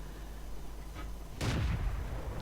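One heavy tank-gun shot booms in a World of Tanks-style battle game as a Chi-Nu Kai fires, a single loud blast with a short rumbling tail over a low engine drone.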